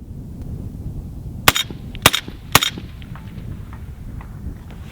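Three sharp gunshots from a Ruger Mini 14 rifle on an outdoor range, evenly spaced about half a second apart, each a loud crack followed by a short ringing tail.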